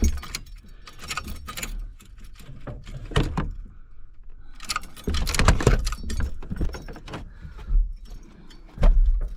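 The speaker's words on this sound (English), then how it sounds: "Let me try to turn this ignition." A key is worked in the ignition of a Chevy Nova with a no-crank fault. Close metallic jangling comes with scattered clicks and clunks in uneven bursts, and no engine starts.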